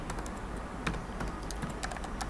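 Rapid, irregular keystrokes on a computer keyboard, close and steady throughout, as someone types during a Python programming session on a slowing machine; no voices.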